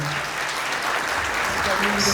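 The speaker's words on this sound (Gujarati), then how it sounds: "એકવાર જોરદાર તાળીઓથી આપણે હારુનભાઈને બતાવ્યું" Audience applause at a Mahashivratri gathering, a steady wash of clapping from a crowd lasting about two seconds, with some voices mixed in underneath.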